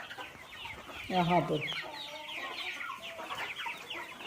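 Desi hens on a poultry farm clucking in short, repeated bursts of varying loudness, with someone speaking briefly among them.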